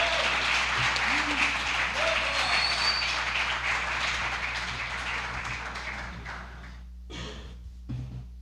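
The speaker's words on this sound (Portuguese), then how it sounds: "vamos aplaudir o Senhor" A church congregation applauds during an evening worship service, a broad steady roar of clapping that thins and fades out near the end, with faint voices in the room.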